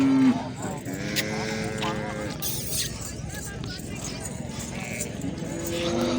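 Goats bleat at a busy livestock market in Chakwal, a few short calls rising over a constant murmur of people talking, with background bustle and occasional hoof and vehicle noise.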